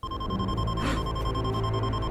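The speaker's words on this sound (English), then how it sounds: "Beeping, that's never good." A steady electronic alarm from an episode of Star Wars Rebels sounds as a continuous, even beeping tone, with a brief whooshing swell partway through.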